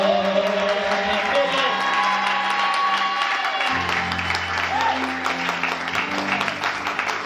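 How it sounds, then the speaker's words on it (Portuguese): A church congregation breaks into applause for the Lord, with dense clapping mixed with cheers and whoops. Sustained organ or keyboard tones ring underneath, and the noise stays loud and steady throughout. "Aplausos para o Senhor"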